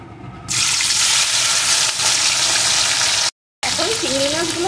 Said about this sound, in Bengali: এখন এর ভিতরে লবণ হলুদ মাখানো চিংড়ি মাছগুলোকে দিয়ে দেব।